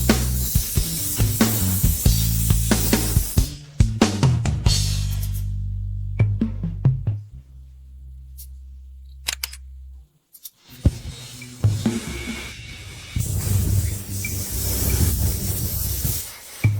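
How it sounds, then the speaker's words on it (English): Loud hissing bursts of high-concentration anti-scratch varnish sprayed onto a Toyota Camry engine surface, alternating with pauses, a low machine hum underneath, then steady spraying resumes. "Start spraying high concentration anti-scratch varnish."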